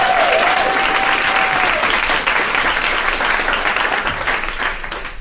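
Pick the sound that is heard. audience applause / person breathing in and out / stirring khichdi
audience applause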